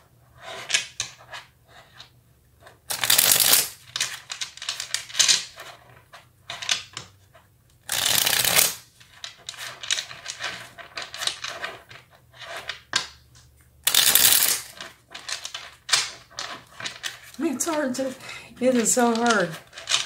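A small deck of tarot cards is handled and shuffled in short bursts of riffling and flicking between pauses, close and crisp, while someone talks intermittently.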